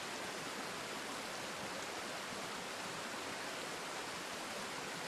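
Steady rushing river water in the video game Trine 2, a continuous broadband wash at a quiet, even level with no voices over it.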